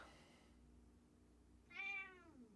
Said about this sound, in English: And stop meowing, please.